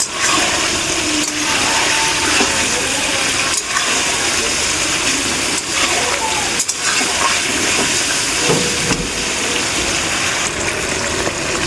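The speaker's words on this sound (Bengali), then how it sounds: "এরকমভাবে একটু একটু জল দিয়ে আমি 3-4 বার আলুটাকে কষাতে থাকবো।" Potatoes sautéing in a pan with small splashes of water added while a Bengali tomato-potato fish curry is cooked, giving a loud, steady sizzling hiss with gushing, bubbling water sounds throughout.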